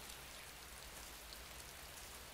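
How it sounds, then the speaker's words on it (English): Steady rain falls in Metal Gear Solid 3, a dense, even hiss of drops on surfaces with no talking, filling the whole moment without change. "Nice rain."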